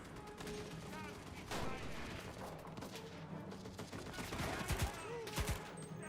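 MP18 submachine gun fire in the World War II shooter Enlisted, with bursts and single sharp shots over a busy battlefield din, some near and punchy, others farther off, plus mechanical clatter and voices in the background.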